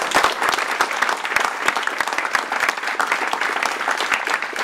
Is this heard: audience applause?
yes